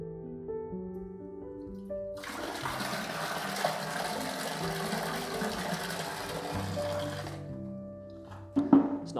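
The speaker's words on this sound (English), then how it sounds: "when I pour the water out" Water poured out of a container inside the indoor well room at Harvington Hall, an Elizabethan house: a steady, splashing gush running for several seconds, then tailing off into a few drips and small knocks, with no voices.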